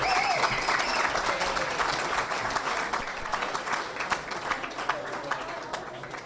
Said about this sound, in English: Give me a round of applause, everybody.